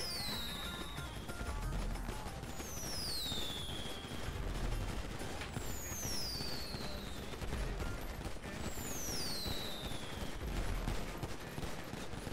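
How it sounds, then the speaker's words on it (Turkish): Fireworks go up in a game, whistling rockets rising and falling in repeated streaks over a dense, continuous crackle of bursts and booms, loud and unbroken throughout. "Hayda hava fişek atıyorlar lan"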